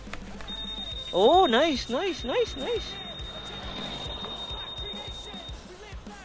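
A 2023 Honda PCX 160 scooter's anti-theft alarm sounds in a rapid series of rising, warbling electronic chirps, loud and close, over a long steady tone, while a person speaks briefly nearby.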